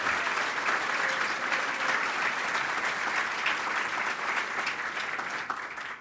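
A large audience at a city State of the City address applauds steadily, a dense wash of clapping that holds at a constant level before tapering slightly at the end.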